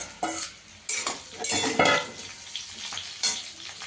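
Radish and potato pieces fry in a pan, with sharp spatula scrapes and clinks against the metal in irregular bursts over a soft sizzle, close by and without talk.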